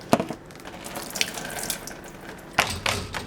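Water pours and splashes off freshly washed dishes from a dishwasher, short gushing bursts at the start and near the end with trickling and dripping between, close and fairly loud.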